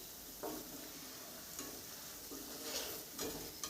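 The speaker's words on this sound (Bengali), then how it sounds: "উলট পালট করে ভেজে নিব।" Cauliflower pakoras frying and being stirred in hot oil, a soft steady sizzle with a few louder scraping stirs, fairly quiet and close, no voices.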